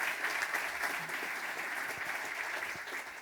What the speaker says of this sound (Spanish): Pues un aplauso para Alfredo por todos los reconocimientos.